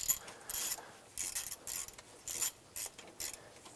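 Ratchet wrench tightening a replacement stud and nut with an E7 socket on a 2000-2006 Toyota Tundra 4.7L V8 engine during a timing belt and water pump job; six or seven bursts of quick clicking, close and alone.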